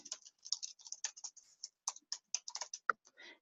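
Rapid, uneven computer keyboard typing at close range, a burst of crisp clicks and keystrokes with brief pauses, ending on a heavier key press, with no talking.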